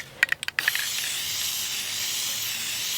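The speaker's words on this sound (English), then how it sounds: "I'm just going to give the bottle a quick shake, and I'm going to give it a quick spray." A bottle of gloss spray gives a few quick rattling shakes, then releases a steady close hiss of mist onto polymer clay earrings that continues to the end.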